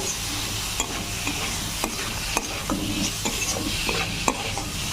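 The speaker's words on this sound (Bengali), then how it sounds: "মাশরুমটাকেও দিয়ে ভালো করে" Mushrooms fry in a pan for a Bengali mushroom jhal, with a steady sizzle throughout and repeated scraping clicks as they are stirred at an even rhythm, heard alone and close.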